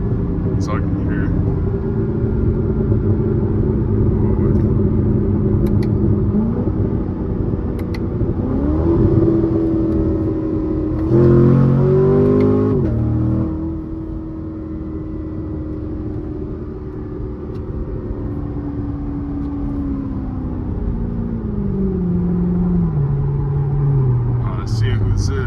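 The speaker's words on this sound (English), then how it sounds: "Good backfires with just muffler delay too as well." A loud C7 Corvette with an aftermarket exhaust and muffler delete rumbles steadily during a late-night drive, the engine note rising and falling through shifts, with a few faint pops, and someone talking over it.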